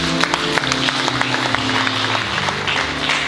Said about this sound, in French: Qu'on acclame le Seigneur.